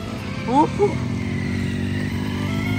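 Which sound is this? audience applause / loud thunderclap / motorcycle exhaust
motorcycle exhaust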